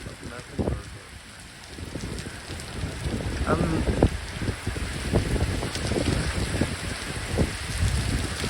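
Heavy rain pours down in a storm with strong wind, a dense steady roar with scattered louder splatters and gusts, while a person briefly murmurs over it.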